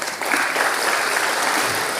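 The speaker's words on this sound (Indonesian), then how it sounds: "tepuk tangan dong Pak Budiarsa" Audience applause at an Indonesian ministerial talk on housing: steady, dense clapping fills the whole clip at even loudness after a brief quieter start, with no voices over it.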